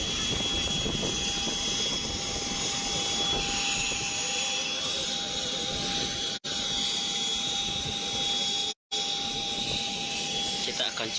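An aircraft engine runs at an airfield with a loud, continuous whining roar and steady high tones, heard close by, with two brief dropouts.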